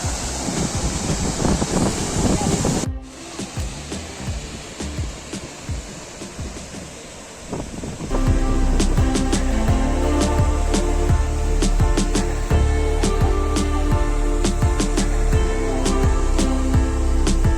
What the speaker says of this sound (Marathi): हे बघा आमचा हिमालयला धबधबा जरा जवळून बघू